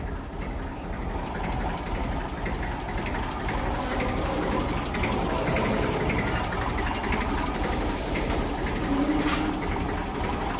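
A tractor engine runs nearby at a steady idle, a continuous low chugging drone with faint mechanical rattle and no talk.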